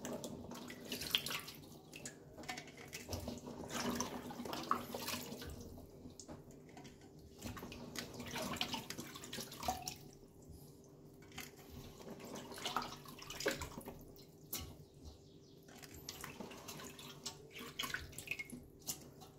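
Tap water runs steadily into a sink as olives are washed by hand, a soft continuous splashing with small knocks and handling noises, fairly faint and close, with no talking.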